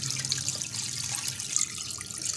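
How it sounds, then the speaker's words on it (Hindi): Water poured into a bowl of spiced batter for commercial-style chicken wing pakora, a steady soft splashing pour heard alone at close range. "अब इसमें 1 केजी हम पानी डालेंगे"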